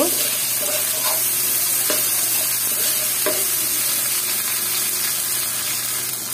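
Chili and ginger frying together in a pan while being stirred, a steady close sizzle broken by a few scraping stirs, with no voices.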